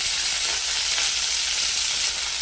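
Oil in a kadai sizzles and crackles steadily with mint while cooking chicken biryani, a close, continuous frying hiss with no voices.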